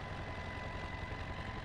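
A helicopter engine idles steadily in Farming Simulator 22, giving a continuous low, droning hum with no talk over it.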